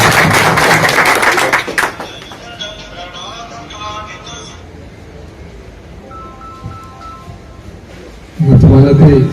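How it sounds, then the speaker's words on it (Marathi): Applause from an audience at a Marathi political gathering, a burst of clapping at the start and another near the end, with quieter hum between them. "त्याबद्दल जोरदार टाळ्या"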